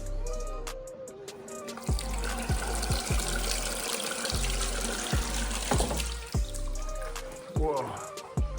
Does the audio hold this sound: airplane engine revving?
no